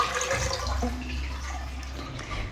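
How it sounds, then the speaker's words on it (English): Water rushes and gurgles steadily as an Indian-style toilet is flushed, filling the whole short stretch at moderate loudness with no voices. "Okay, flush it."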